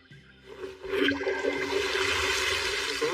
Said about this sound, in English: Water, come forth.